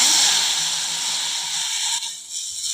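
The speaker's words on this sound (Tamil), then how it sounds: "இதில் ஒரு அரை லிட்டர் பால் சேர்த்துக்கிறேன்" Half a litre of milk poured into a hot pan of roasted vermicelli for a fruit custard, giving a loud, steady hiss and sizzle that eases off after a couple of seconds.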